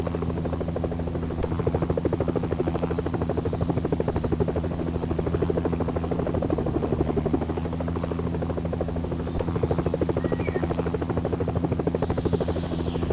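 Helicopter rotor in the game Helicopter Simulator 2014 during a rescue mission, a steady, close, throbbing hum with regular rapid blade beats that carries on unbroken.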